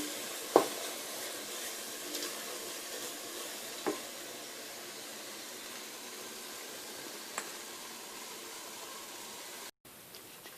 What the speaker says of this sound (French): Et maintenant on laisse bien mijoter.